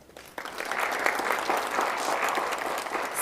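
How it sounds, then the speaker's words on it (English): Applause rises quickly and holds steady from the audience at a school board meeting. Many hands clap densely and continuously in a room, with no talking over it. "Round of applause."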